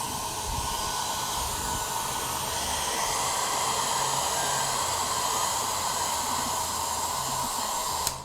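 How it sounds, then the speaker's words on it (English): Hairdryer blowing steady air onto a computer motherboard, a loud, close, continuous hiss and whir lasting several seconds before it clicks off, with no talk. "Where's the hairdryer?"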